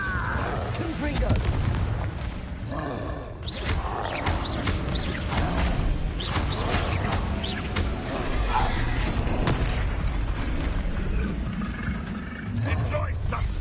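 Confringo blasting spells in the Hogwarts Legacy game set off repeated booming explosions and rumbling roars in a dense, continuous stretch of combat noise, with voices speaking over the blasts.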